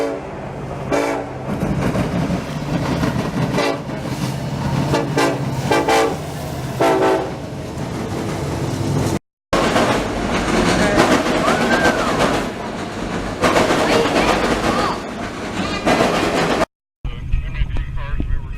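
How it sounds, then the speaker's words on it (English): Freight train rolling past in Marion, Ohio, led by KCS SD70ACE and SD70MAC locomotives with a CSX unit behind, loud rumbling and clattering wagons with a horn blast, steady and close throughout. "Next train had KCS power on point, SD70 ACE leading, SD70 MAC trailing, and just a normal CSX in the back."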